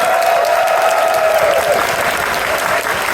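A large crowd at a furry convention opening ceremony claps steadily and loudly throughout, a dense, sustained wave of applause with a faint cheer early on.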